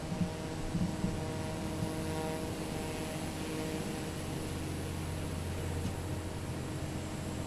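Simulated propeller aircraft engines in Microsoft Flight Simulator 2024 give a steady, droning hum with a faint airy hiss, holding even and low-level throughout with no talk over it.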